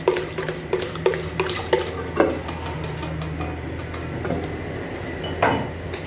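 Flour is stirred into dough in a bowl with repeated soft knocks, scrapes and light clinks of a utensil against the bowl, close and steady, over faint low background noise, with no talk.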